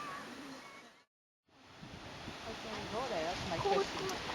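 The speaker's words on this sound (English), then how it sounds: "We're not sure the name of this waterfall, but it looks really amazing" A waterfall pours into a gorge near Sendai, Japan, as a steady broadband rush, heard from high above. It drops out briefly, then returns under a faint voice.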